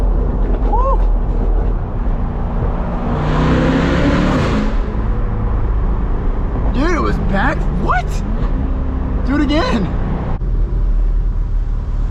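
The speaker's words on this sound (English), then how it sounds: "my exhaust is burbling in the winter now" A catless C8 Corvette's exhaust rumbles low and steady while driving in winter traffic, with a broad droning roar that swells and eases, and a voice talking over it.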